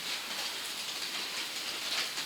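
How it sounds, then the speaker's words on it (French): Rain falling outside a country house at night, heard as a steady, even hiss that stays constant throughout with no voices. "on entend la pluie qui tombe."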